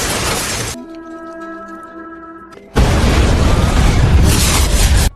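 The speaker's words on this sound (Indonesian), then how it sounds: "Mobil Han ditabrak oleh mobil misterius, sehingga meledak" A loud crash and explosive boom burst out, cut by a brief tonal hum, then a sustained roaring blast of noise until an abrupt stop.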